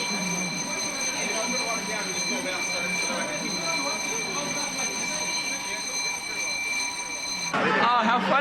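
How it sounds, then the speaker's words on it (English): A building fire alarm sounds continuously and loudly with a steady electronic tone, running throughout, with voices and commotion mixed in underneath. "What we just had is a bit of a fire alarm go off"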